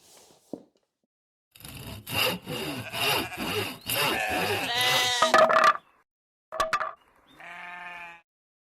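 Handsaw cutting wood on a DIY joinery sled makes several rasping back-and-forth strokes in close succession, loud and near, followed by a pause and a couple of short squeaky scrapes.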